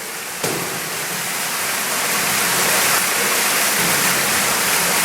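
Ruby Falls, a waterfall inside a cave, roars in a dense, steady rush close by, growing slightly louder after a brief bump at the start; no voices.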